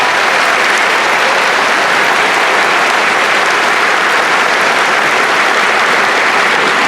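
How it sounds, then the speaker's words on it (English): Sustained, loud applause from a high-school graduation commencement audience, steady dense clapping filling the whole stretch without a break, with no speech over it. "Let's give them a round of applause."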